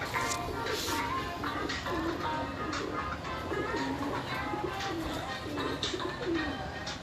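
Champion pigeons coo in low, repeated throaty calls close by, mixed with shuffling and faint background voices.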